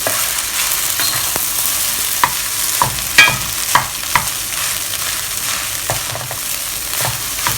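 Fried rice with plenty of egg is stirred in a hot pan, a loud, close sizzle broken by irregular spatula scrapes and clinks, with no one talking.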